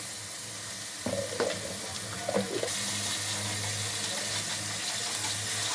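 Ginger garlic paste frying in hot oil with dry prawns for a dry prawn and ridge gourd curry, giving a steady sizzle with a few soft stirring scrapes near the start, close and moderately loud.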